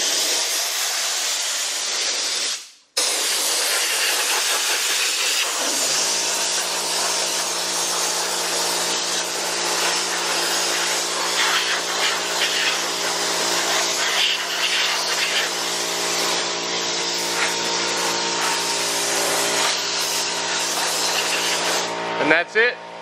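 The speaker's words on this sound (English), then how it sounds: "Now it's only compressed air." An air injection detailing tool blasts compressed air with no liquid while cleaning a Tesla Model S 100D, a loud continuous hissing rush that pauses briefly and then resumes. A voice speaks over it.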